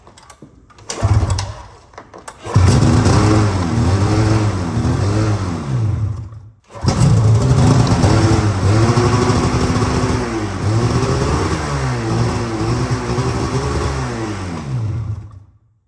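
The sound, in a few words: Polaris RMK 800 snowmobile engine struggling to idle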